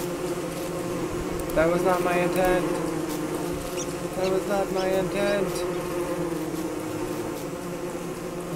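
Bees buzz in the video game Don't Starve in a steady droning hum that swells and fades in two stretches, under a person talking.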